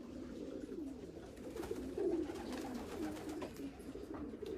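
A racing pigeon coos repeatedly inside a pigeon loft, soft low rolling calls close by over a steady background murmur.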